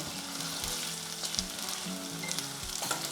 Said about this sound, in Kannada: ಚೆನ್ನಾಗಿ ಫ್ರೈ ಆಗಬೇಕು ಎಣ್ಣೆಯಲ್ಲಿ